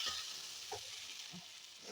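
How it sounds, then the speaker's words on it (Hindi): Whole dried peas are stirred and fried in a pan: a faint, steady hiss of frying with a few soft, low scrapes of the spoon, quiet and even throughout, with no voices. "इसको भी हम चलाते हुए भून लेंगे"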